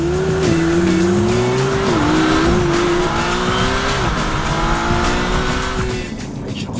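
A McLaren Artura launches and drifts, its engine note climbing and wavering through gear shifts while the tires squeal continuously at close range, easing off near the end.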